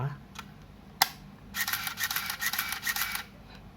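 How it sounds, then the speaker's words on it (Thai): Minolta a5000 film camera auto-loading film after its back is closed: a sharp click, then a close whirring motor drive running for about two seconds, with a quiet voice in the background. "ตัวกล้องมันจะโหลดฟิล์ม ออโต้นะครับ"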